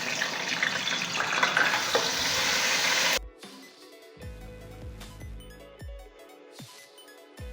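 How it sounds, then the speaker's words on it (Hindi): Garlic ginger paste fries in a pan for Kabuli pulao, a loud hissing sizzle for about three seconds that abruptly cuts off, followed by quieter clinks and scraping. "अब हम इसमें 2 टेबलस्पून लहसुन अदरक का पेस्ट ऐड करेंगे और इसे अच्छी तरह से भून लेंगे।"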